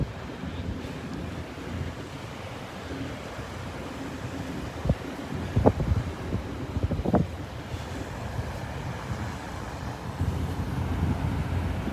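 Wind gusts buffet the microphone on a shallow beach in North Naples, Florida, a steady roaring rush with surf beneath it and a few faint knocks partway through.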